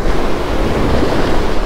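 Loud, continuous roar of ocean waves crashing against jetty rocks during a fishing trip, heard up close with heavy wind buffeting the microphone.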